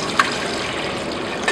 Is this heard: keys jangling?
no